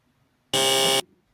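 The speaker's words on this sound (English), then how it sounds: "He is so fast on that buzzer." A game show contestant's buzzer gives one loud, flat electronic blast lasting about half a second, alone between quiet gaps.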